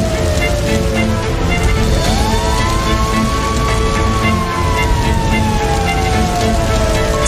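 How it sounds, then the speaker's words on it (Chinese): A fire truck sprays water onto a burning crane that struck a height-limit barrier, a steady loud rushing hiss like heavy rain filling the whole clip, with a siren-like tone rising and falling partway through. "消防车立刻开始进行喷水灭火。"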